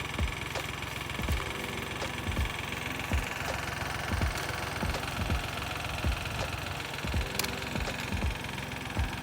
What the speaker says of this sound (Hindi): ये ट्रैक्टर चल रहा है ऑटो पायलट पे